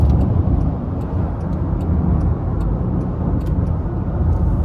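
A 2023 Land Rover Defender 90X with a 3.0-litre turbo inline-six accelerates on the road, heard from inside the cabin as a steady, full engine and road rumble without any talking.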